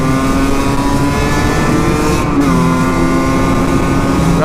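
A Husqvarna SM 125 motorcycle engine runs loud and close, a sustained buzzing two-stroke drone with a brief dip in revs midway before holding steady again.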